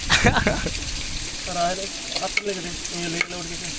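A chicken mixture is stirred and mashed outdoors in a pot on a hillside for bamboo chicken, scraping and squelching in bursts, with people chatting nearby.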